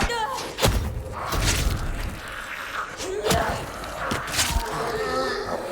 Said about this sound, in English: Fleshy tears when poking a Z between the eyes with a spear.